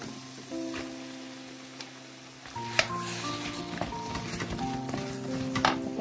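Cut flat beans (shim) are stirred into spice paste frying in a pan: a faint sizzle, then louder hissing with scraping stirs and clinks of the spoon, set against steady tonal music.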